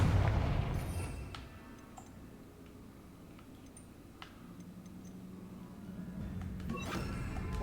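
A Confringo spell explosion from Hogwarts Legacy bursts with a loud low boom at the start, then fades into a rumbling tail marked by a few sharp ticks, before a second burst swells near the end.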